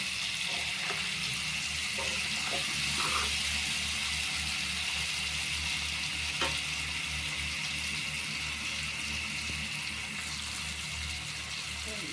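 Rohu fish pieces frying in a pan, a steady, even sizzle and hiss running throughout with a few faint scraping touches from stirring.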